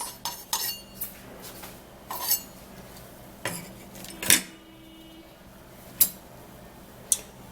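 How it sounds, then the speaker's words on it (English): A cooking pot and metal utensils knocked and clinked in a kitchen during preparation of a herbal remedy, sparse sharp clanks spaced over several seconds, close but fairly quiet, alone without talk. "So after that, then we'll grab a pot."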